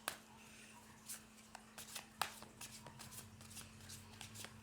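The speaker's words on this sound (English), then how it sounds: "a little bit more shuffle and we'll start." Tarot cards are shuffled by hand at close range, quiet riffling bursts and soft slaps repeating irregularly over a faint steady hum.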